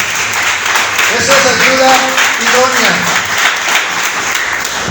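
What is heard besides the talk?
congregation applauding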